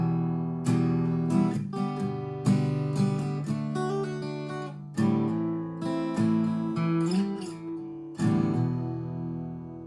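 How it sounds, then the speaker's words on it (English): Acoustic guitar plays the outro of a song, a strummed and picked chord pattern with several strong attacks and ringing notes, close and alone with no voice. "Now the last part I want to show you is the outro"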